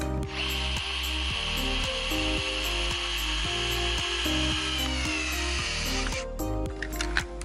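A power drill drives a screw into a Daiso bicycle phone mount. It whines and ratchets steadily and loudly for about six seconds, then stops with a few clicks.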